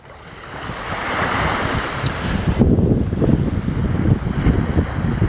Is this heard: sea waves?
yes